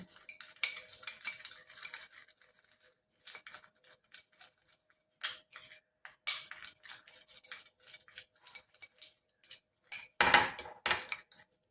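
A spoon stirs kasturi turmeric powder paste mixed with a spoonful of milk, giving soft scattered scraping and clinking taps in short bursts, with one louder clatter near the end.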